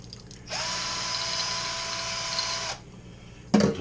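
An electric drill spins a bottle-cleaning attachment inside a bottle in bleach water, a steady high whine lasting about two seconds before stopping, followed by a brief clatter.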